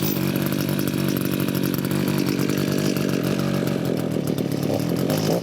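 Ten-year-old Echo string trimmer engine running steadily on half choke after a new fuel filter and priming, a loud continuous buzzing two-stroke drone held close throughout.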